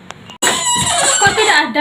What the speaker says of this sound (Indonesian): tiba-tiba terdengar suara ayam jantan berkokok menandakan hari sudah